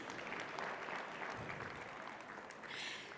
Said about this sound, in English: Let's give all the performers a big round of applause